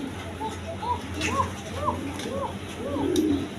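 A red Gorra pigeon coos in a repeated series of soft, rising calls, close by, over a quiet room background.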